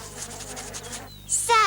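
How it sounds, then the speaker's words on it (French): Cartoon flies buzz in a soft pulsing drone for about a second, then a brief high squeaky voice-like sound cuts in at the end. "ces mouches vont me manger vivant"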